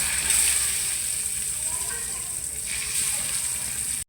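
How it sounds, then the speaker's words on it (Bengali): Pabda fish dropped one by one into hot oil with turmeric, a steady bright sizzle and crackle that softens slightly, with a voice talking over it. "এক এক করে পাবদা মাছগুলো ছেড়ে দেবো"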